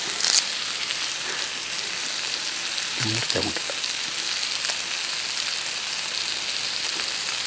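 Tomatoes and curry leaves sauté in a pan for a ladies' finger curry, a steady close sizzle with a brief burst of stirring and clatter midway, no talking.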